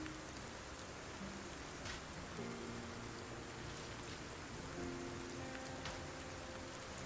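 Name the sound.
rain in the video game Project Zomboid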